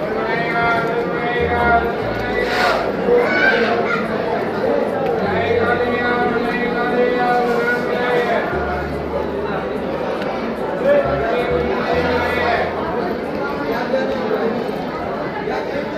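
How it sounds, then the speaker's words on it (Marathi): Dense crowd of devotees chattering at Jivdani temple in Virar, Maharashtra: many overlapping voices fill the space continuously, loud and close throughout. "पाहू शकता भक्तजनांची गर्दी किती आहे"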